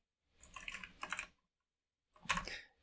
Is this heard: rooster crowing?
no